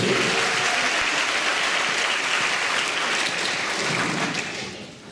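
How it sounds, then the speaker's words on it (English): An audience at a talent show applauds steadily and loudly, the clapping tapering off toward the end. "give a round of applause for that"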